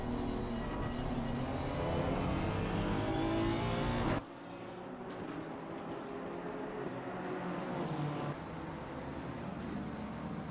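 GT race cars, including a BMW, battle wheel to wheel at the Nürburgring in Assetto Corsa Competizione. Engines roar continuously and loudly, then the sound abruptly drops to a quieter, steady drone partway through.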